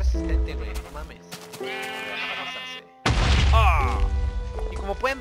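Sheep bleating in Minecraft, several wavering, harmonic bleats up close, broken by a brief pause, over game sounds and talk.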